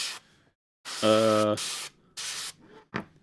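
An airbrush sprays paint onto miniature models, sounding as several short, close bursts of hiss separated by brief silences, one burst carrying a faint tonal hum.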